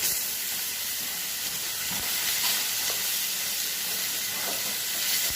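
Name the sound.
fish sizzling as it fries in a pan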